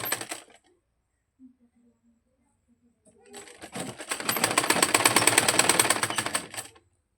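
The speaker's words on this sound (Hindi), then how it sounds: "तो चलिए पहले मैं सिलाई लगाती हूँ।" A sewing machine stitches along a blouse neckline strip, starting after a few seconds of near quiet and running as one continuous, fairly loud burst of rapid stitching for about three seconds before stopping.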